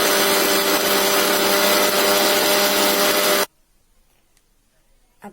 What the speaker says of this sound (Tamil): நெக்ஸ்ட் இதை மிக்ஸில் போட்டு நல்லா அரைச்ச வேண்டியது தான்.